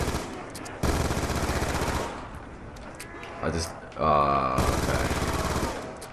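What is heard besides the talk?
B23R pistol firing in Black Ops 2 Zombies video game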